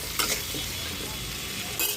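Pumpkin and beans with green chilies are stirred in a sizzling pan, with a steady frying hiss under two brief scraping strokes of a utensil near the start and end, close and fairly soft, with no talking.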